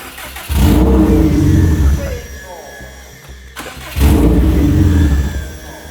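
A turbocharged car engine with only the downpipe fitted cranks and fires, running loud and rough with revving surges, settling briefly before revving hard again, with a voice talking over it.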